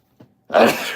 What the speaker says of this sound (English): Anytime I talk economics, I sneeze.